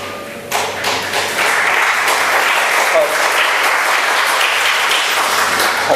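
At a nautanki folk theatre performance, a few isolated claps quickly swell into loud, sustained audience applause that holds steady to the end, with some voices mixed in.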